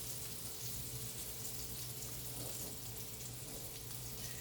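Pork chops sear in a long pan on a stove, giving a steady, faint hiss and sizzle with no talk.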